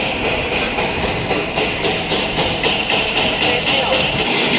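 The Netravati Express passenger train rumbles with a steady rhythmic clatter and hiss, close by and fairly loud, as it moves into Panvel station.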